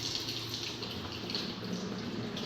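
Water runs steadily into a school basin from a tap, a soft continuous splashing hiss at low level with no voices over it.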